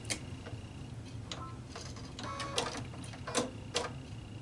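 A sewing machine stitches the pinned sleeves of a tunic, running as a fast, even ticking and whirring with sharper clicks now and then, heard close and fairly quiet with no talk.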